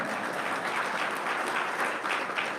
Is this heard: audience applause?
yes